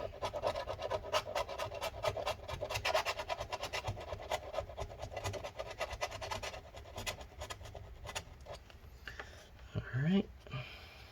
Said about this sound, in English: Scrape up all this old adhesives.